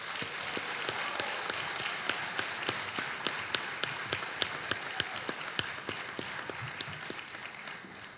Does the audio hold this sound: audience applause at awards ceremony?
yes